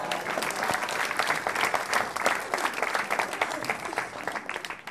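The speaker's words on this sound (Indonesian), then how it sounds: "Beri tepuk tangan dulu." An audience at a televised stand-up comedy battle claps in a sustained burst of dense applause that swells and then tapers slightly, heard as a full crowd with no single voice standing out.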